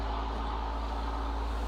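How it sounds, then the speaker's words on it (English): A loud truck passes close by, its heavy low engine rumble steady and continuous through a short stretch of traffic noise, with no talking. "That's a noisy truck."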